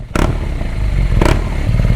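A Boss Hoss motorcycle engine rumbles close and loud with a heavy, steady throb, broken by two brief revving bursts.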